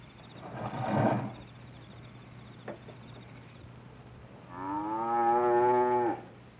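Dairy cattle on a farm give two moos, a muffled low call first and then a long, clear, tonal bellow after a quiet pause.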